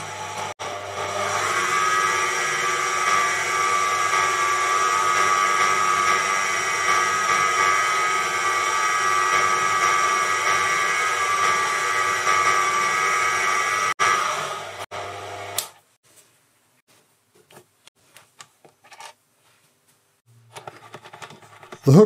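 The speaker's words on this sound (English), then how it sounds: "A lathe file removed the sharp burr, and the Cratex stick polished up the last bit of the length." A Proxxon PD 250/e lathe runs steadily while a coat hook is filed and polished, a loud continuous whine with tonal hum that cuts off abruptly, followed by near silence broken by faint clicks and handling noises.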